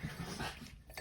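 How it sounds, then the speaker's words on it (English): Dogs whimpering and whining close by in a quiet room, a soft, continuous stretch of small canine vocal sounds with no talking. "the dogs are with me"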